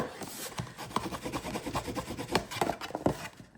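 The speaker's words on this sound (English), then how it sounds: "I like to take my burnishing tool and just go on the inside. So you can just burnish that bottom a bit" A burnishing tool rubbed firmly back and forth inside the bottom of a tote bag to set the adhesive, making rapid, rhythmic scraping strokes, close and fairly loud, with no talk.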